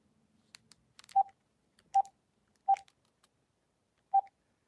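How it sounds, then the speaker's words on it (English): A telephone keypad sounds four short, clear dialing tones at uneven intervals, close up and alone, with faint handling clicks in between. "I must have dialed the wrong number"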